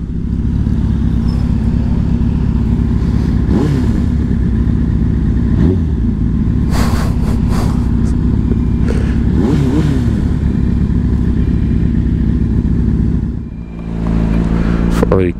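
Motorcycle engine running steadily up close while riding through traffic, a loud continuous drone with a few brief rises in pitch and scattered clatter, ending on a short dip and recovery.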